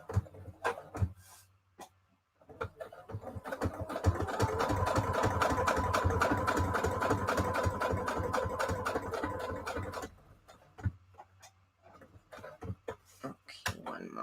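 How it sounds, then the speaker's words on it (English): A sewing machine runs a straight-stitch border around a fabric tag for a junk journal, a steady rapid whir of needle strokes lasting several seconds, with quieter handling sounds before and after. "Now let's sew around. I'm going to do a straight stitch kind of border around the whole tag."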